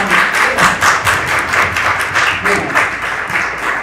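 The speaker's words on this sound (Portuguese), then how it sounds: "eu quero pedir aqui uma salva de palmas" Short burst of audience applause at the close of a cinema discussion event, with clustered claps pulsing near and loud over a murmur of voices.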